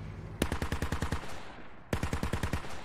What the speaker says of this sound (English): I do hear some gunshots over here